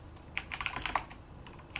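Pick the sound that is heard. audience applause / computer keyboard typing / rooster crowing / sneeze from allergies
computer keyboard typing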